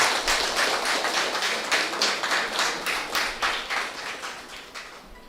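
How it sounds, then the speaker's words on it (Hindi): Audience clapping at a Vigilance Awareness Week program in a panchayat hall, a steady sustained round of applause with dense rhythmic claps, fairly close and even throughout. "उनके लिए ज़ोरदार तालियां।"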